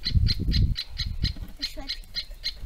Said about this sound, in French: La chouette.